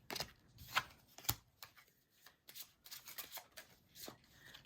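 Tarot cards handled and drawn from a deck: a series of quick papery slides, flicks and snaps, some sharp and close, separated by short pauses, with no voices.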